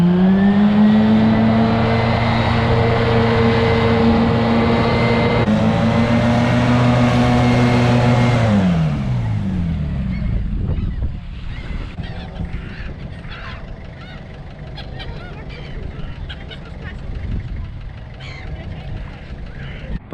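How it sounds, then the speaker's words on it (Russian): Hovercraft on a spring flood river in Yakutsk: a loud, steady droning engine whine holds, then winds down in pitch and fades to a quieter rough rumble and wind-like noise. "Посмотрим как раз в действии катера на воздушной подушке."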